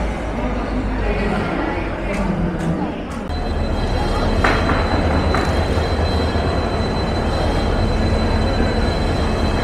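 The Howrah–Jagdalpur Express rumbles at platform 19 of Howrah station amid steady crowd noise and chatter, with a few sharp metallic clanks and a faint high squeal.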